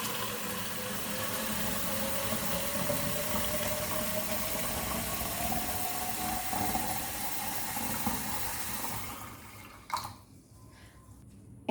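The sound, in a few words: filling a plastic bottle with water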